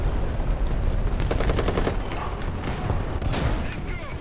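Gunfire in War Thunder rattles in rapid, close bursts punctuated by heavier booming shots, continuing throughout with a voice talking over it.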